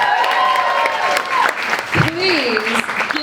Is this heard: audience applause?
yes